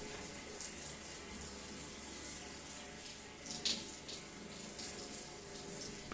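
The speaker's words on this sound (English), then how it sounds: "Water pours from the shower." Steady shower water pouring and splashing at low level, a continuous rushing hiss with slight fluctuations throughout.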